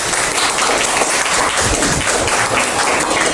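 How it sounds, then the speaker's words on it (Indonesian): A classroom of students applauds a group after its presentation: loud, dense, continuous clapping from many hands at close range, with no break for the whole stretch. "Tepuk tangannya dulu dong."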